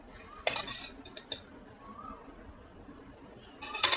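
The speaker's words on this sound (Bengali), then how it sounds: "এসব ইনগ্রিডিয়েন্টসগুলো মিলিয়ে নিই, শুকনো সব এগুলো মিলিয়ে নিই" A spoon scraping and clinking against a bowl while mixing dry cake ingredients, including a pinch of salt and a spoon of baking powder, in a few sharp taps over quiet kitchen background.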